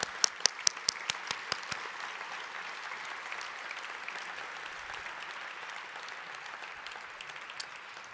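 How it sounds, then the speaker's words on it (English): Faint, thin applause from an awards ceremony audience honouring volunteering nominees and winners, a soft continuous patter with a few sharper, closer claps standing out near the start. "I'd like for us to have just one more round of applause for all of our nominees"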